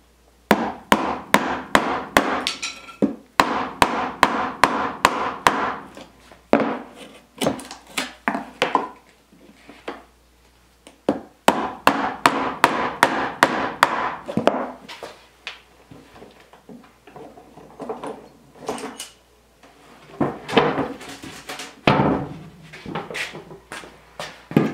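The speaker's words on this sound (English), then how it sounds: "Now we're gonna take our half inch chisel," Hammer striking a half-inch chisel to cut notches in wood for a chick brooder build, sharp close blows in fast rhythmic bursts separated by short pauses, no talking.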